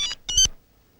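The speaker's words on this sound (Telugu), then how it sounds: "రాంగ్ టైం లో రింగ్ అవుతుంది." A mobile phone rings with two quick electronic tone bursts, bright and close, followed by silence.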